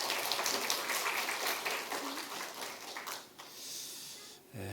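A church congregation applauds during a Sunday worship service, a soft, rain-like wash of many distant hands that gradually thins and ends abruptly.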